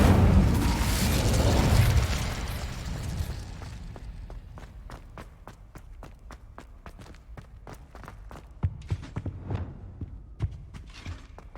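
Incendio fire spell in Hogwarts Legacy: a loud whooshing fiery burst that fades over about two seconds, followed by a long run of sharp, irregular clicks and footstep-like taps, with a few louder pops near the end.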